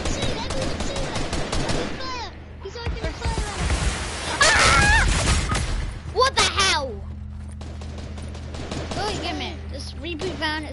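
Rapid bursts of video-game gunfire crackle and rattle in the middle of a multiplayer shootout, loud and dense around a heavy barrage, with players shouting and talking over the shots throughout.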